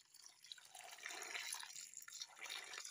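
Rice water pours into a container of rice while pickled bamboo shoots are being prepared, a soft, steady trickle and splash heard close and quietly, without speech.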